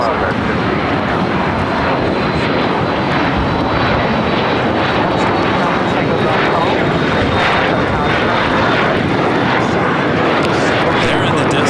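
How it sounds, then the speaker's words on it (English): A LATAM Boeing 767-300ER airliner in LAN livery, heading to Lima from LAX, gives a steady, loud engine roar with a faint whine, while a voice talks over it. "There in the distance is Latam Airlines in the LAN livery on the 767-300ER heading to Lima, Peru, flight 2479."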